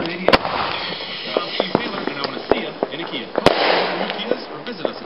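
Tall Tails artillery shell fireworks bursting and crackling outdoors at a Fourth of July display, with sharp distant booms and popping over steady crowd noise and people talking.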